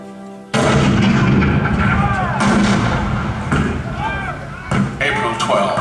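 Cannon fire depicting the 1861 bombardment of Fort Sumter booms through the Hall of Presidents show at Magic Kingdom, Walt Disney World: a loud opening blast followed by several more heavy, rumbling shots.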